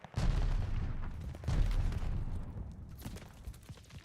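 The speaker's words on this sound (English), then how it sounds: "Allies calling a mortar barrage." A mortar barrage in the Call of Duty: Vanguard multiplayer game, two heavy booming impacts with rumbling debris, followed by scattered smaller blasts.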